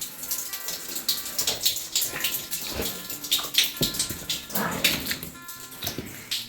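Water splashing and dripping inside an old disused tunnel in Plymouth, Devon, with hollow, echoing drips and sloshing throughout and scattered faint noises, close and steady.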